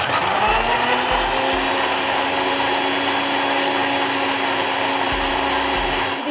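A kitchen mixer grinder blending a milk smoothie, loud and close, with a steady high motor whine running unbroken throughout and no talk.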